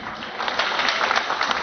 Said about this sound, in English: Likewise, an applause to the officer in charge